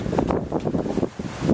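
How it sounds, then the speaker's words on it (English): Strong wind blows across an open, dusty mountain landscape, buffeting the microphone in loud rushing gusts that rise and fall. "it is so windy today, isn't it awesome?"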